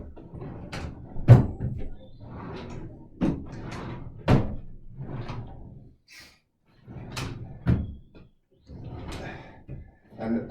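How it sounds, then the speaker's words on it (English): IKEA MALM chest of six drawers, its drawers slid in and out repeatedly, giving a series of short sharp knocks and sliding thuds spaced a second or two apart, close by in a quiet room. "All the drawers slide in and out quite smoothly."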